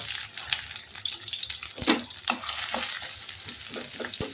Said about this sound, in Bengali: এখন একটু লাল করব একটু বেজে পেঁয়াজ আর রসুন লাল করে বেজে নিব